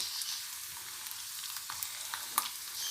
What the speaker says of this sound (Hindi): फिर उसके बाद खुशक मसाले डालेंगे। ये थोड़ा सा ब्राउन होगा फिर खुशक धनिया और जीरा डालेंगे।